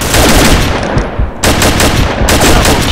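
Rapid, loud gunfire from an M14 Hunter rifle in the online shooter Combat Arms, sustained close-range bursts with a brief lull near the middle before the shooting resumes.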